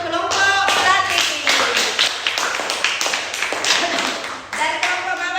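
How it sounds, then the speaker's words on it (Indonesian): A classroom of students applauds a student group after a math presentation, steady dense clapping close by throughout, with some voices mixed in. "berikan tepuk tangan untuk kelompok pelatih"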